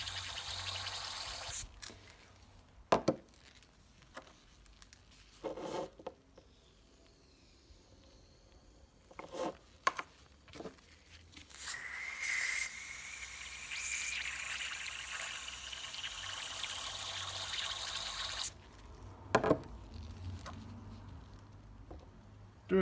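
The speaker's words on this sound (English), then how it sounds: "Then really large excess of chloroethane was measured out and added to the" Chloroethane is poured into a bottle of sodium ethoxide, with scattered glassy clicks and handling knocks followed by a sustained pour whose pitch rises as the bottle fills, all quiet and close.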